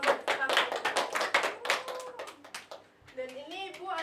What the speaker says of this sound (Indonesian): Tepuk tangan buat kelompok pertama.